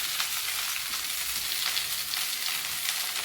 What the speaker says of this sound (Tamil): இதே எண்ணெய் இருக்கட்டும், இந்த எண்ணெயிலே கீரை நம்ம வதக்கிடலாம்